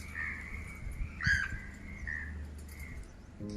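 Birds calling around a quiet monastery in Bagan, a few thin high calls and short chirps over soft ambient hush, faint and somewhat distant.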